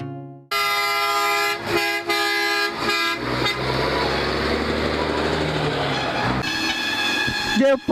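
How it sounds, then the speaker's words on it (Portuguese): Loud car horns honk continuously, with overlapping blasts and long sustained tones, during the 60th São Cristóvão procession in Itajubá, Minas Gerais, right after fireworks. "Depois do foguetório, o buzinaço indica."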